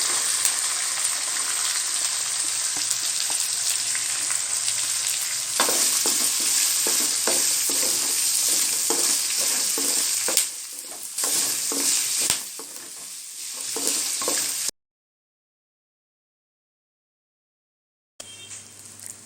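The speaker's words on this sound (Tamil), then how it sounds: "சேர்த்துட்டு லைட்டாக வதக்கிட்டு நம்ம அடுத்தது வெங்காயத்தை சேர்த்து விட்டுடலாம்." Curry leaves and green chillies sautéing in hot oil for a potato bonda filling: a steady close sizzle with stirring scrapes, then a sudden gap of silence before the frying resumes briefly.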